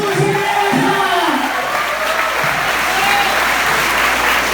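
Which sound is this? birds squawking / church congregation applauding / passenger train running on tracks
church congregation applauding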